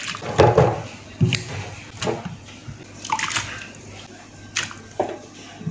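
Dried fish being washed by hand in a basin of water, with repeated sloshing, splashing and rubbing sounds in irregular bursts, close up and moderately loud, with a bit of clatter against the container.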